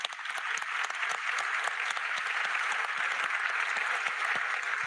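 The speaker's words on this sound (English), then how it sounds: "a round of applause for our panelists" Audience applause for panelists at the close of a conference panel, a continuous patter of many hands clapping at moderate volume, steady throughout with individual claps faintly distinct.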